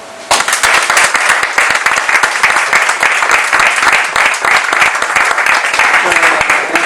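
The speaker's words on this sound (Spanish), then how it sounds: "me gustaría que lo recibieseis todo con un fuerte aplauso" An audience at a book presentation greets the presenting doctor with loud, sustained applause, dense rapid clapping that starts abruptly and keeps an even intensity throughout, close and full.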